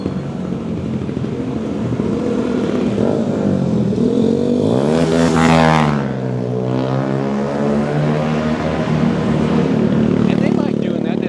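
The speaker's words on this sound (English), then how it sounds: "they like revving up their engines" A loud engine revs up and sweeps past on a street in Angeles City, Philippines, rising then falling in pitch over steady traffic noise, with a voice talking throughout.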